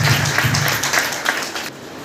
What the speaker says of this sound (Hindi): महिलाओं के लिए जोरदार ताली होनी चाहिए